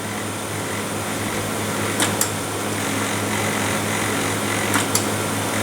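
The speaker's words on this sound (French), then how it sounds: "J'essaye d'imprimer une page." A LaserJet printer hums steadily while trying to feed a page it fails to pull through because of a worn pickup roller. A constant mechanical drone runs throughout, with two brief pairs of faint clicks partway through.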